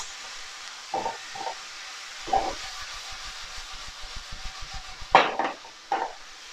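A spatula or spoon stirs crispy shredded sweet chilli beef with spring onion and chilli in a pan: scattered scraping and clinking hits over a steady low sizzle, some of them in quick rhythmic bursts.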